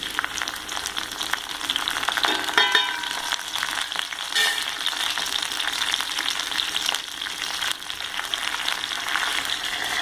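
Pepper, fenugreek, curry leaves and garlic fry in hot oil for a tuna curry, giving a loud, continuous crackling sizzle. Brief flurries of sharper spitting rise now and then above the steady frying.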